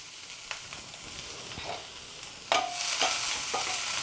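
One full large onion sautéing with vegetables in a pan, a steady soft sizzle that swells louder partway through as the pieces are stirred, with occasional scraping strokes and no talking.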